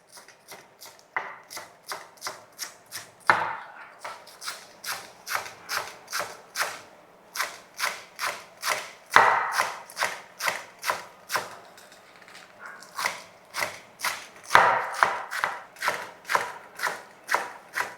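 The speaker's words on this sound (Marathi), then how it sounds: "भाजी आपण हा पालक चिरून घेऊ एकदम बारीक चिरून घ्यायचा असा लांब लांब नाही चिरायचा एकदम बारीक चौकोनी चिरून घ्यायचा आहे" A knife finely chopping fresh spinach into small squares on a board, a steady run of close, crisp cuts in quick bursts with brief pauses between them.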